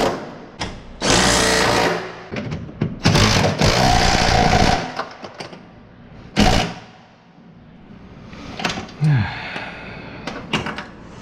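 An impact gun rattles in several loud bursts, tightening bolts on the engine mount of a 2010 Kia Forte during an engine and transmission swap, with pauses and clunks between bursts and a brief voice.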